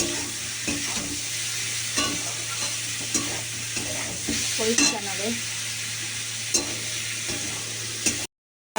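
Potatoes fry with whole green chilies in a pan, giving a steady sizzle under repeated stirring and scraping, with a brief spoken word, before a sudden short cut to silence.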